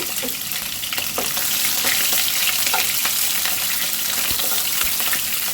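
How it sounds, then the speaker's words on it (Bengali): Shrimp frying in hot oil make a loud, steady sizzle with light stirring clicks scattered through it, close to the pan and alone without voices. "আমি তেল ছেড়ে দিয়েছি, এখন চিংড়ি মাছ দিয়ে দিলাম। চিংড়ি মাছগুলোকে আমি ভেজে নিব।"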